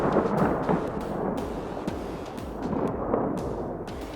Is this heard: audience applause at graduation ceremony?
no